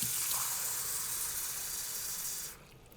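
Water pours steadily into a blueberry pie filling of sugar, cornstarch and salt, a close hissing rush that fades and stops near the end.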